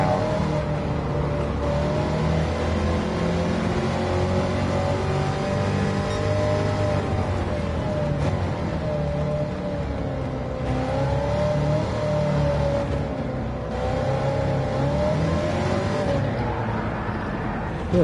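A 1969 Corvette with its factory engine revs loud and close throughout in Gran Turismo 7, with a steady rising and falling engine note and occasional skid-like tire noise.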